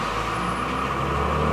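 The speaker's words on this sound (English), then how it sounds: "There's always somebody revving their engines." Steady low vehicle engine rumble with Southern California traffic noise, a continuous drone close by and no voices.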